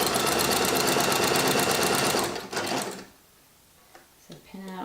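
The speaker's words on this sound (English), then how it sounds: "bring our needle in, and I'm going to sew until I approach this corner here." A sewing machine stitches quilt binding in a fast, steady run for a couple of seconds, then stops, leaving faint handling noises.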